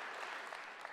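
A church congregation applauds the choir and worship team, a brief, steady wash of clapping from many hands, heard faintly and at a distance.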